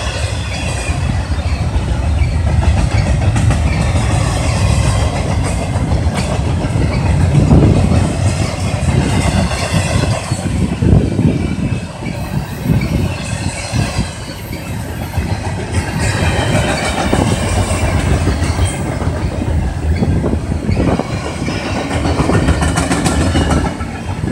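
A train with worn, bad wheels rolls past close by, its loud rumbling roar carrying a continuous rhythmic clacking of wheels over rail joints for the whole stretch.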